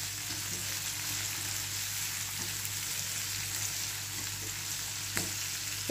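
Frying in white oil for a lentil soup, an even, continuous sizzle with a low steady hum underneath and a single sharp tap near the end.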